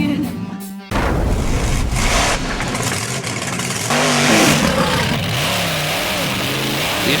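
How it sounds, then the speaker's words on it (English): The Australian champion monster truck Outback Thunda revs loudly at close range doing reverse donuts, its engine roaring and surging in pitch continuously after a short pause, with commentary talk over it. "The Australian Monster Truck Champion Outback Thunda showing every time he goes out why he is one of the most spectacular trucks in the game"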